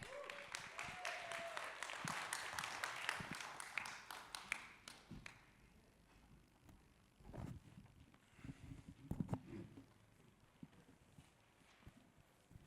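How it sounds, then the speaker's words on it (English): An audience at a fireside talk on stablecoin design applauds, a dense burst of clapping for the first five seconds that thins into scattered claps and light movement. "Please give a big round of applause for Sonya and Guy."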